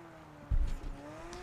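McLaren car in the video game PUBG driving, with a steady engine drone rising slightly in pitch and a brief thumping bump partway through, fairly close and moderately loud, no talking.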